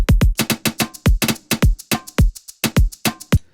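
An afrobeat drum pattern built in Serato Studio repeats with punchy added kick drums, crisp percussion hits and a bouncy swung rhythm, loud and close with no talking.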